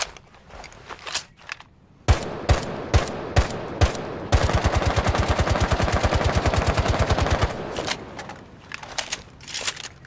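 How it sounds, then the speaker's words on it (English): A Rainbow Six Siege match with Frost's C1 9mm firing: a few separate single shots, then a long steady burst of rapid automatic fire near and loud, and scattered clatter at either end. "The C1, yeah. That's Frost's 9mm."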